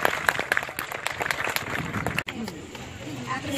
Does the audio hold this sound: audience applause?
yes